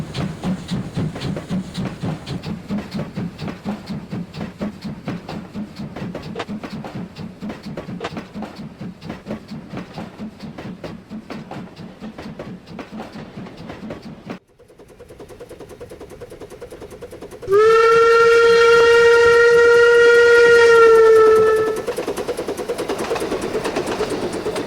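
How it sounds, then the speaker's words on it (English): A steam locomotive hauling an export coal train to the harbor gives a steady rumbling chug with hiss, then a loud, sustained whistle blast near the end before the rumble goes on. "101 was pulling an export coal train to the harbor"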